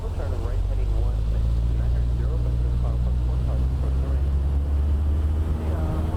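A Cessna C152 piston engine drones at full power on the takeoff roll in Microsoft Flight Simulator 2020, a steady loud low hum with someone speaking over it.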